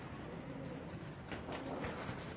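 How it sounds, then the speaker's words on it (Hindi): Soft, low cooing of Dubai pigeons and faint fluttering sounds on a rooftop in Sialkot, quiet and close, with a high steady hum in the background. "जो उनके बड़े मशहूर कबूतर हैं।"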